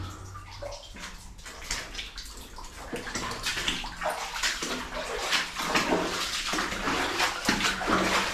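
Water crashes continuously at a waterfall in a New Zealand valley, a loud, dense roar that swells slightly as it goes on, with no talking.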